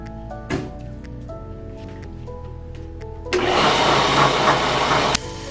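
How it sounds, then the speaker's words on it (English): A machining cut takes material off the upper portion of a harmonic balancer. A low tonal hum and a few clicks lead into a loud, steady, broadband cutting roar that runs to the end. "So I'm cutting this off like 50 thousandths at a time."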